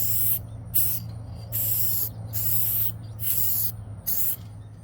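A spray paint can hisses in several short bursts outdoors while tiller tines are painted, each spurt loud and close with brief gaps between.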